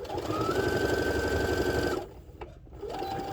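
Sewing machine stitching soft, squishy fabric for a spa headband, a close rapid motor hum running for about two seconds, a short pause with small clicks, then stitching resumes.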